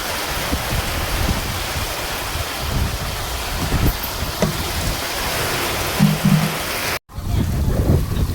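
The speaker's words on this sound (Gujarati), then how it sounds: "તો અને વરસાદ પણ સારો એવો ચાલુ થઈ ગયો છે." Steady heavy rain pours down on a farm near a cotton field where a tractor has been parked in a shed, a dense continuous hiss with occasional faint knocks.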